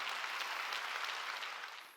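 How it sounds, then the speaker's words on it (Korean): A church congregation claps together in a dense, steady burst of applause during a Sunday worship service, fading slightly at the end with no speech over it. "아름답게 박수쳐요"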